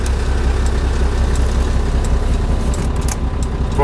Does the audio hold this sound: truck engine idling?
yes